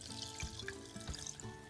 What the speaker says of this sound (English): Let's just pour the pickle juice